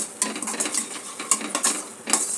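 A spoon scraping and clinking against a metal pan while chili and coriander powder are stirred into chicken masala, with irregular close scrapes and taps and no talking.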